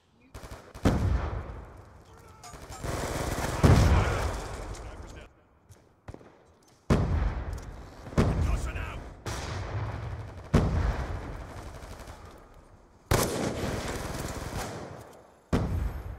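Shotgun blasts ring out in a video game, several loud, sharp booms in irregular bursts separated by short gaps, with voices talking over the gunfire.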